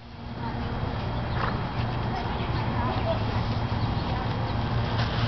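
Quarter Horse hooves trotting steadily around a riding ring, a continuous mid-distance clip-clop under an instructor's voice calling out directions.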